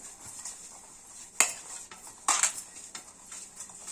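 A perforated metal vessel, greased with a little oil for making sabudana chivda, is handled in a kitchen, giving a few sharp metallic clinks and scrapes over a quiet background.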